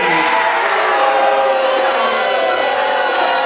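A loud wrestling crowd at an independent show in Yarmouth roars and cheers continuously, with whoops and shouts blending into a dense wall of noise.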